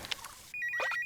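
A cartoon telephone rings with a bright electronic tone in quick repeated pulses after brief soft sounds, heard clearly and alone.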